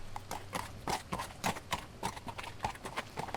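Horse hooves clip-clop at a steady riding gait in a video game, the clear rhythmic hoofbeats sitting close up, with a brief whinny-like hint and no speech.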